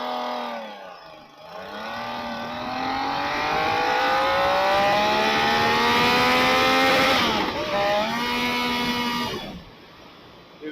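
A 2024 Yamaha MT-09 motorcycle accelerates hard, its engine note climbing steadily through the revs, dropping at a gear change, then pulling up again into third gear before easing off, loud and close.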